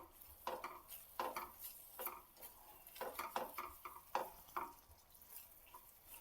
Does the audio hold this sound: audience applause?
no